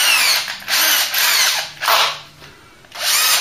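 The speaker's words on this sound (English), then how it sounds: "So we'll get the drill out." A power drill fitted with a homemade adapter spins a sprocket on a Mk3 Ford Cortina during a classic car restoration, running in four loud close bursts separated by short pauses.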